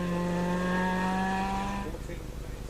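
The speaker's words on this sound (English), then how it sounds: "Listen to the revs coming out of this turn." A rally car engine revs hard out of a corner at the 2009 Rally Wairarapa in New Zealand, strong steady harmonics, then eases off and fades, loud and close over a rough motor rumble.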